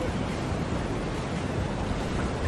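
Pond water pouring into a container of fish food, a loud, steady rushing splash that continues without a break from start to finish.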